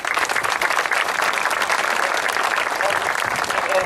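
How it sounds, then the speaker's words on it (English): Audience at a War of 1812 ceremony press conference applauding the governor, loud dense clapping from a sizable crowd, even and continuous throughout, with no voices over it. "Can we give the governor a round of applause and Parks?"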